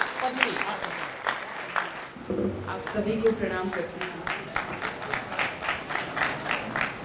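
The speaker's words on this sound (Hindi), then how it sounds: "एडवांस में ही आप तालियां बजा रहे हैं" Audience applause at an Independence Day poetry recital, someone speaking briefly at the start and then steady rhythmic clapping from the crowd that continues through the rest.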